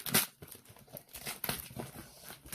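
Scissors snip and tear through packing tape on a cardboard parcel, with crinkling and scraping of tape and box in quick irregular bursts, close by.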